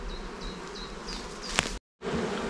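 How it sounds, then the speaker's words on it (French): Honeybees swarm around a hive in a dense, continuous buzz close to the microphone, with a sharp knock near the end and a brief dropout before the droning resumes. "il y a encore plein d'abeilles dans la ruche"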